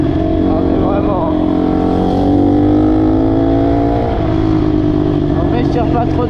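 A 150cc motorcycle engine being broken in revs up and holds a loud, close, steady drone whose pitch climbs and dips gently over several seconds.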